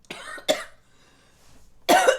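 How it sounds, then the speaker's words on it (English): A person coughs sharply twice in quick succession, then after a short quiet pause gives another harsh, raspy cough, close and moderately loud. "You got the whooping cough"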